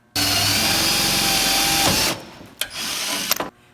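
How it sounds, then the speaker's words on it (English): A power drill bores a hole in a car body panel for a Dzus fastener button, whining steadily for about two seconds, then dropping off, followed by a second shorter burst of drilling and a few clicks. "This drill is gonna drill a hole for the Zeus button."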